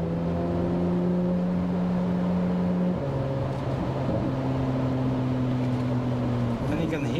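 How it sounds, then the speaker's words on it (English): Inside a moving 2023 Chevrolet Corvette Z06 Convertible, the transmission downshifts as the car slows, and the engine drone steps down in pitch at several distinct points over a constant road rumble. "And you can hear that transmission downshift as you slow it down."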